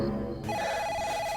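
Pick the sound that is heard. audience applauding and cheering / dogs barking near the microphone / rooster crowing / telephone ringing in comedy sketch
telephone ringing in comedy sketch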